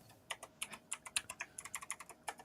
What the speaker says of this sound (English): someone's rapidly typing hard